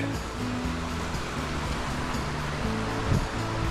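A small river flows under a bridge in the Peak District countryside, a steady broadband rush of moving water, fairly close and continuous with no talk.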